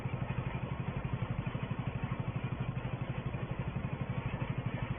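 A 1964-era tractor runs steadily while rolling grassland at Attingham Park, its engine thumping in an even, rapid, low-pitched rhythm with a constant chugging pulse, moderately close and unbroken.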